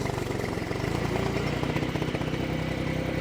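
Mini skid steer running with its forestry mulcher head spinning, a dense, loud engine drone with a rumbling mechanical throb that stays steady and close throughout.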